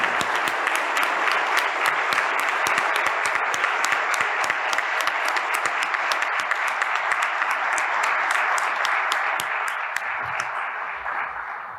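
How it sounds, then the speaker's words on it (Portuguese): An audience at a lecture gives a full, sustained round of applause, dense overlapping claps at steady strength that taper slightly near the end, with no talking. "Eu queria encerrar oferecendo a vocês do Atlantos uma sincera salva de palmas"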